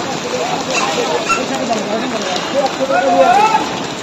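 Rain pours over a busy market street during a storm, a constant close patter and splash with people talking and calling out underneath.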